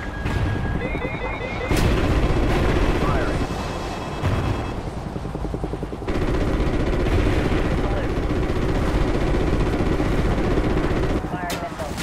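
Heavy, sustained gunfire in the Call of Duty Ghosts video game, with rapid bursts over a loud rumbling battle din that surges and drops several times, alongside radio-style voices.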